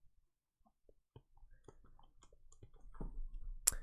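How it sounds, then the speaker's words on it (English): Light, scattered clicks of typing on a computer keyboard during a C++ programming session, quiet and uneven, with a soft rustle building toward a louder tap at the end. "this is a real great keyboard to type on"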